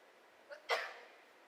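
A single sharp sneeze from a spectator during a professional Heyball Masters pool match, preceded by a faint intake sound, then fading into quiet hall ambience.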